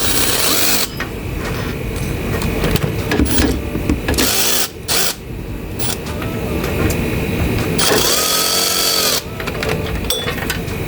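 Electric drill fitted with a 10mm deep socket running loose the water pump bolts on a Toyota RAV4 2AZ engine, a steady close whirring drone broken by short pauses and restarts.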